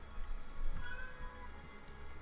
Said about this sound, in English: The cat at the door.